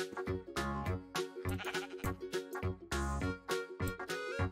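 Sheep bleat repeatedly in Minecraft, with the SecurityCraft mod, in a run of loud, close, wavering calls one after another, no talk over them.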